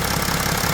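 A vehicle engine sits at a commanded idle during an EGR diagnostic check, a steady, loud, close rumble for a brief moment.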